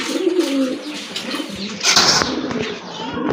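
Pigeons coo repeatedly at a pigeon market selling local and imported birds, a few close, throaty warbling calls with faint rustling and no talk.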